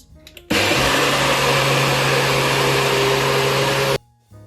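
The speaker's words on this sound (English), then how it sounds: "without putting too much strain on your blender or whatever method you're using to blend" A blender switches on with a loud roaring whir, runs steadily for about three and a half seconds, then cuts off abruptly.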